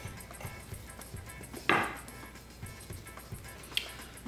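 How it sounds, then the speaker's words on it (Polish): A knife slices through a skinless cod fillet on a cutting board, giving one crisp, close cut with a soft thud amid quiet kitchen background and a few faint taps. "Ten kawałek przekroimy"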